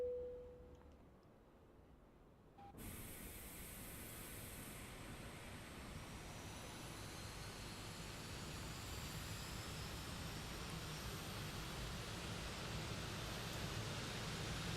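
A volocopter in Microsoft Flight Simulator 2024 on PS5 Pro starts up: after a quiet start, a sudden broad steady engine and rotor roar takes over and builds slightly, droning evenly with no talk.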